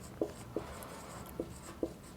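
Writing on a board in a classroom lesson, four short separate taps of the marker or chalk spaced unevenly, faint over a quiet room hum.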